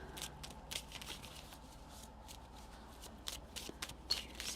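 Tarot cards being shuffled on a small table, a soft run of papery riffles and flicks, faint and close, repeating in short bursts over quiet room tone with no talking.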